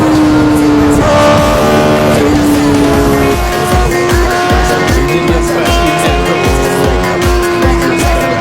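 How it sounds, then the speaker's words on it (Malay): A QJMotor 600cc sport bike engine revs hard and loud up close, a high, strained mechanical scream that rises and falls in pitch through repeated throttle pulls, with a thumping rhythmic low end beneath. "Ini dia, Kuijian motor 600cc Sport Bike."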